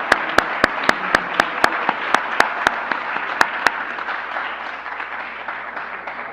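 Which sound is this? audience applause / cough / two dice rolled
audience applause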